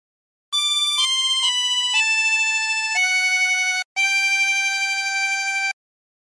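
Harmonica plays a slow phrase of O Canada, a few sustained single notes held one after another with a brief breath gap, clear and alone.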